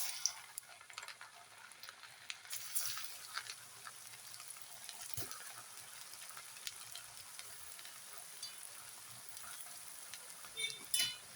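Pathiri dough rounds with sesame seeds fry in bubbling hot oil, giving a faint, continuous crackling sizzle like light rain, with a few louder pops and spatters toward the end.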